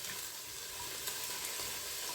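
Chopped carrots, onions and garlic fry in olive oil with a steady, broadband sizzle that holds even throughout, with small crackling pops and no voices.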